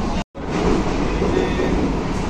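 An EMU fast AC local train pulls out of Naihati Junction, and its steady rolling rumble and wheel noise fill the carriage after a brief cutout near the start.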